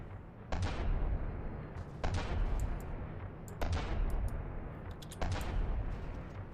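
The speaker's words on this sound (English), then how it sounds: "Crote is firing a shell" Shells fired in the video game Rumble, four loud heavy booms at roughly even intervals of about a second and a half, each followed by a rumbling tail.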